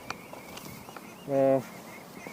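A single short nasal quack rings out from ducks foraging in an Indonesian rice field, moderately close, while someone talks over a quiet outdoor background.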